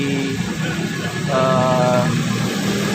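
A Toyota Starlet car engine idles steadily after an oil change, a close, even running hum with a faint whine joining midway.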